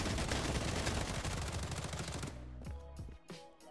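Rapid automatic gunfire in the shooter video game Bloodstrike, a dense continuous burst of loud shots that thins into a few separate final shots.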